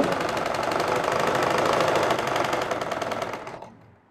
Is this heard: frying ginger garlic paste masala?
no